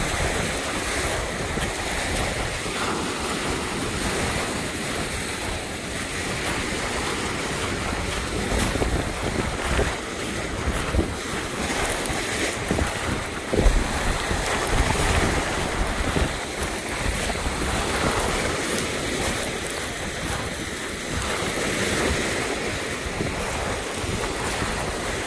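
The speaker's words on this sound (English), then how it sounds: "Sometimes it's just nice to listen to the waves." Steady rushing waves wash against the Lake Erie shore without pause, mixed with gusty wind buffeting the microphone.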